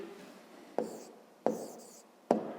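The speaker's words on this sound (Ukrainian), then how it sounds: "Записуємо тоді відповідь." Pen or pencil writing an answer on paper during a fifth-grade maths exercise, heard as three short, quiet bursts of scratching strokes separated by pauses, close and alone with no talking.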